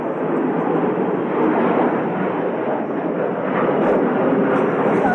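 An airliner flies over near Wellington Airport, a loud, steady broadband jet roar holding at close range for the full few seconds with no talk over it.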